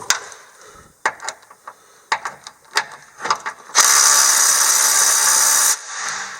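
A socket ratchet tightens a bolt on a Curt receiver hitch on a Toyota FJ Cruiser. Up close, it gives scattered clicking pawl strokes, followed by a steady, hissing mechanical whir that lasts about two seconds.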